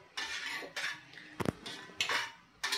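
A spoon scrapes and swishes around inside a pot of dal in short, repeated strokes, with one clear metallic clink midway; quiet and close.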